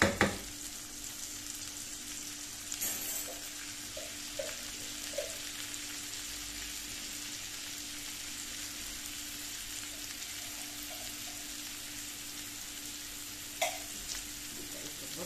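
Onions frying in a pan, a soft steady sizzle with faint occasional clinks and taps, close and quiet, with no talking.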